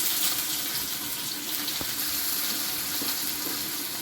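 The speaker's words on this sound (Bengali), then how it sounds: "পাশে কড়াইয়ে তেল দিয়েছি একটু গোটা জিরে তেলে পেঁয়াজ কুচি আর রসুন কুচি করে নিয়েছি সেটাও দিয়ে দেবো" Chopped onion, garlic and whole cumin fry in oil in a wok with a steady, dense hiss. A couple of faint clicks break the sizzle, and no one talks.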